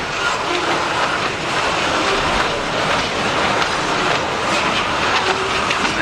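A long freight train loaded with logs rumbles steadily past, wheels clattering over rail joints in a continuous, fairly loud roll with no voices.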